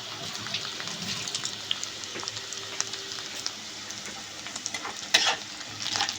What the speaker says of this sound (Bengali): পেঁয়াজটা ভাজা হয়ে গেছে, 4টে কাঁচা লঙ্কা দিয়ে দিলাম।